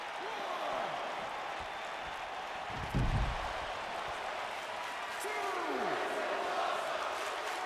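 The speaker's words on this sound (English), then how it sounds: "the crowd going crazy here in LA" Crowd noise roars throughout from a large stadium audience in Los Angeles at Super Bowl LVI, a dense continuous cheer with a brief louder swell, under someone commentating.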